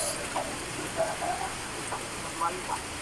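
Heavy rain pours in a steady, dense hiss that fills the whole clip, with a few faint, indistinct sounds rising briefly above the downpour.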